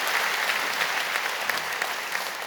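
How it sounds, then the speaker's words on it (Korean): A church congregation applauds in welcome during a Sunday service, a dense, steady burst of many hands clapping together for a couple of seconds. "여러분 크게 박수로 환영하시죠."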